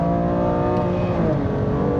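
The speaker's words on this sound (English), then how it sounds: "that rumble strip is a little bit rumbly" A BMW F87 M2 Clubsport runs over a rumble strip on a race track, its engine drone loud and steady with a rapid buzzing judder layered on top for about two seconds.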